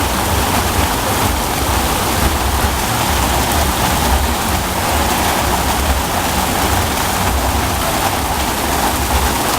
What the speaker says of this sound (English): Been raining about 14 seconds, the roads are flooded.